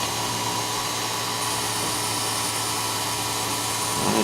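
A Work Sharp Ken Onion grinder attachment grinds a metal knife blade with a continuous, fairly loud motorized whir and abrasive hiss, holding steady throughout with a slight change near the end.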